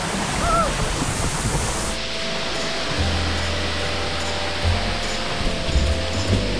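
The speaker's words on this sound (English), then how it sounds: "Waterfall number two." A waterfall at Kaau Crater, Hawaii, roars with a steady broadband rush of falling water, loud and continuous throughout, with a brief thin whistle-like sound early on.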